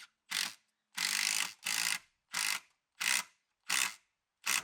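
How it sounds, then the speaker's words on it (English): A drill drives 150mm concrete screws through a timber gate post into a wall in seven separate bursts. Each burst is a sharp, close whirr with short silent gaps between them. "get it screwed to the wall using some 150mm concrete screws"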